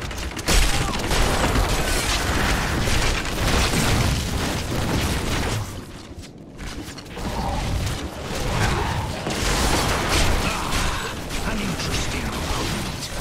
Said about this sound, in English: More corpse explosion!